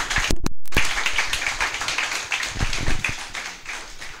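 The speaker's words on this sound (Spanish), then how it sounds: "Recibámoslo con un fuerte aplauso." An audience at a university lecture on big-data analysis with machine learning breaks into applause, a dense continuous patter of many hands clapping that swells and then gradually thins out.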